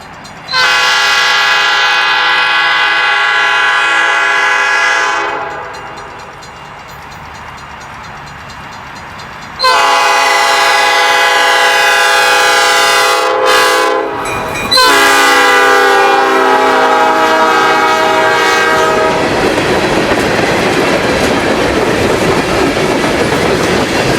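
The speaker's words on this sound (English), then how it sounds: "we find Michigan Shore now flying south on CSX-owned rails." A Michigan Shore Railroad train passes on CSX rails, sounding loud, close air-horn blasts that start, pause and resume, then gives way to rumbling, clattering cars rolling by.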